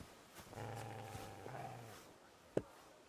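A dog growls low and sustained at close range in the game Kingdom Come: Deliverance II, a rumbling growl lasting over a second before a short sharp sound, with no talking.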